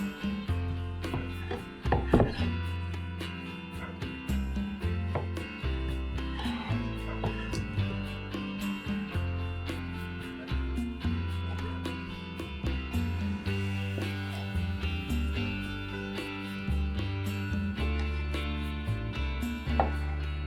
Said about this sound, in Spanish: las cuñas las corté también a la mitad